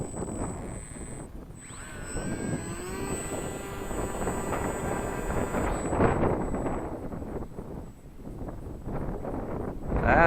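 Strong wind gusts buffet the microphone outdoors during a launch of a brushless Eachine Mini P47 Bubble Top RC plane, a steady roar that swells and dips, with a faint high motor whine running through most of it.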